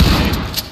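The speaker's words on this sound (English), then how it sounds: "I'm gonna breach and shotgun it." A shotgun breach blast in Ready or Not: one short, loud, booming discharge with a heavy low-end thump that quickly decays into a brief tail.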